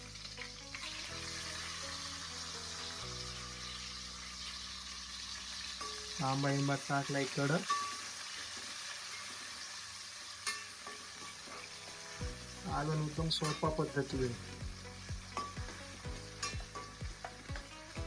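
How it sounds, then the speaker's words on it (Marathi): Garlic tempering crackles and sizzles steadily in hot oil in a home kitchen while being stirred, with louder bursts of frying and a voice speaking over it. "लसूण टाकलाय, लसणाची फोडणी देते आई. आवाज बघा कसा करकर चालू आहे."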